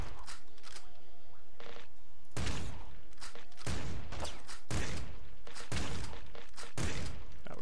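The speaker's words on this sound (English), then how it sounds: "this is a shotgun, because it A, makes shotgun noise" Shotgun blasts from the video game Nuclear Throne, fired in repeated bursts with ricocheting pellets, each burst a sharp crack followed by short crashing, shattering noise.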